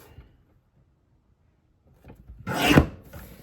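Cardstock for a card kit is cut on a paper trimmer. After a near-silent pause comes a short rasping slide of the blade through the paper, loud and close, then a brief softer scrape.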